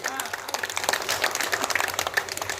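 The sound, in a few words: audience applause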